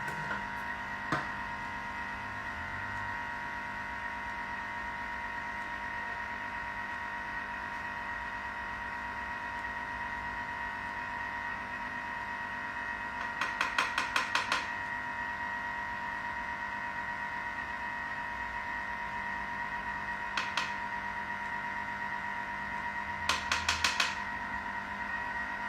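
An electric mixer with a butterfly whisk runs at speed 3, beating four egg yolks for a retro gluten-free cake. It gives a steady, even motor whine that lasts throughout, with a few brief clicks on top.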